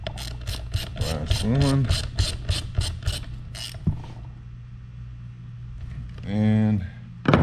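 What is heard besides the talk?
ratchet tightening Onewheel hub bolts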